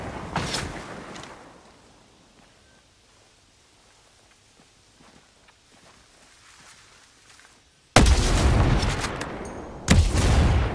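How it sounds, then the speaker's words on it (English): Loud bursts of rapid gunfire in Ghost Recon Breakpoint break in near the end after a quieter stretch of scattered crackling shots, with a brief pause between the bursts. "Hostiles are shooting."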